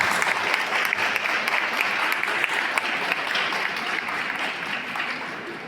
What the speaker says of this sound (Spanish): Recibamos con un fuerte aplauso a David.